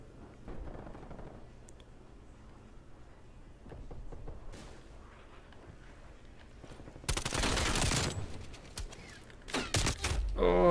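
Gunfire in Call of Duty Black Ops Cold War: low rumbling shots early, then a loud sustained burst of rapid automatic fire and further heavy bursts toward the end.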